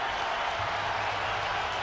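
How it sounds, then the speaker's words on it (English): Loud partisan crowd at a 2002 college football game between West Virginia and Pittsburgh, a broad, steady roar of cheering and applause with no break, no voices standing out. "Listen to this partisan crowd."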